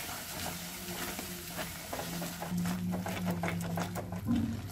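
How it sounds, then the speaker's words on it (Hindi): Cashew-tomato masala paste sautéed and stirred in a kadhai for a matar mushroom curry, giving a steady close sizzle with scraping stir strokes that grow busier toward the end. "अब हमें सारे मसालों को खूब अच्छे से भून लेना है"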